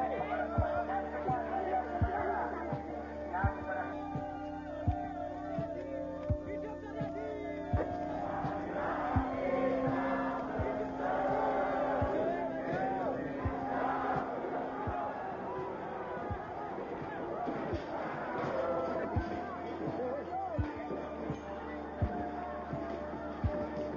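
A large street protest crowd roars and chants in a dense, continuous hubbub, with rhythmic thumping beats running underneath throughout.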